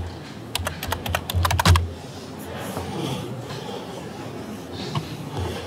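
Rapid typing on a computer keyboard, a quick burst of crisp, close key clicks over a couple of seconds, followed by quieter room noise and a few scattered clicks.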